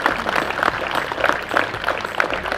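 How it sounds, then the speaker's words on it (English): Audience clapping for the staff of a bowfishing tournament, a thick, fairly loud patter of many hands that pulses slightly, with no clear voices over it. "let's just give them a round of applause"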